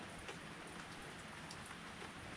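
Steady rain patters densely on a surface, a constant hiss with scattered drops and no voices.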